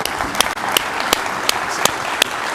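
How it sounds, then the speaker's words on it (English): An audience applauds a keynote panel of carrier executives with a dense, steady clapping that is loud and close, dotted with a few sharper individual claps. "Let's give this panel a rounding"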